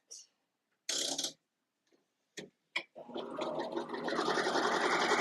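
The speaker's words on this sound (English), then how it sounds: "Let's start sewing, see what we" After a few scattered clicks and taps, a Juki sewing machine starts up and stitches continuously, its close, steady whir building slightly in loudness.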